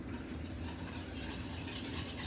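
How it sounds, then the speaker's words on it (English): A whisk stirs pudding mixture in a bowl, a close, continuous rapid scraping and rattling texture lasting a couple of seconds, quiet and alone. "let's just whisk it up"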